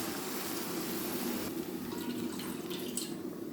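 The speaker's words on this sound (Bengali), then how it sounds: "এখন আমি দিয়ে দেবো জলের পানি" Water is poured into a pan of frying shing fish curry, a gurgling splash over hissing sizzle that shifts into bubbling and spattering, close and moderately loud.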